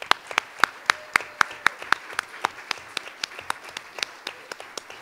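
A small audience at a 2015 candidate forum claps in a sparse, uneven rhythm, with distinct individual hand claps popping out one after another, fairly close and thinning toward the end.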